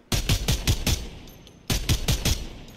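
Gunfire in the video game Fortnite: two rapid bursts of about five sharp shots each, close and loud, separated by a short pause, with no talking.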